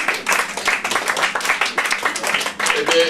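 An audience applauds at a gathering, a dense, continuous patter of many hands clapping close by, with a voice briefly audible over it.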